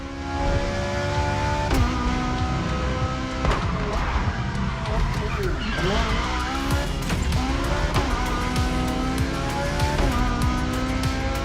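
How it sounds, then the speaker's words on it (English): A Mustang Boss 429 roars through gear changes in The Crew Motorfest racing game, its engine note rising and dropping in pitch with tire squeals throughout, loud and continuous. "There's an absolute classic heading your way, a grail among collectors and Jim's greatest pride, the Mustang Boss 429"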